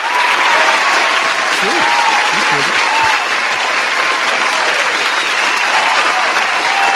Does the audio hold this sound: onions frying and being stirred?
no